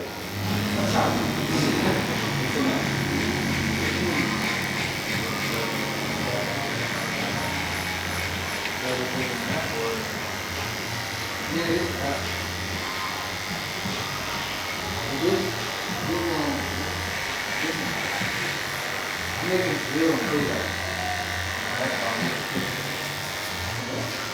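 Detachable-blade hair clippers fitted with an OA blade buzz steadily and close while cutting the guideline for a skin fade. The hum continues throughout, with soft scraping of hair and faint talk in the background.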